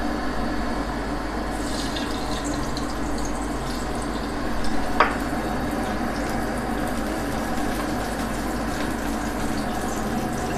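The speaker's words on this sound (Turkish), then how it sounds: "Evet arkadaşlar şimdi sıvı yağımızı atacağız" Cooking oil pours steadily into a pot for a rice stew, a soft continuous liquid hiss with a single sharp click midway and no voices.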